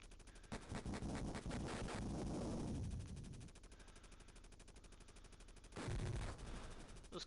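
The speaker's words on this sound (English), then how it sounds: "Those cannons aren't particularly damaging, but they do have quite a high fire rate" Enemy cannons in the Sega Genesis game Jungle Strike fire in rapid, steady bursts of repeated electronic booms, loud throughout with a heavier volley near the end.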